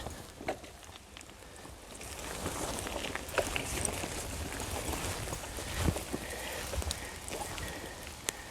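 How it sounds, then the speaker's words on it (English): Rain falls steadily during a bike ride, a continuous broadband hiss with scattered drop taps and faint wind, moderately quiet and with no voices. "And the rain is coming down"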